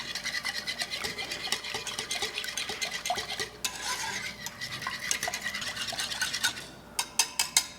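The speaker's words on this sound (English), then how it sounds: "Okay, whisking in the eggs." A whisk clicks rapidly against a bowl while eggs are beaten for lime curd, a fast steady rhythm of close scraping taps that ends in a few sharper, separate knocks.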